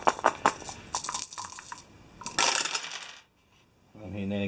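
Dice rattling and clattering across a tabletop in a Mansions of Madness board game, a quick burst of hard clicks and tumbles that settles into silence before a voice begins speaking.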